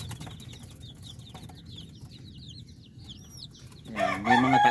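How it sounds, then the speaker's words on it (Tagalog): On a farm, chickens and chicks make soft peeping and chirping over a low murmur, then a louder burst of clucking and crowing from hens and roosters at the end. "At dito naman tayo sa mga sisiw natin."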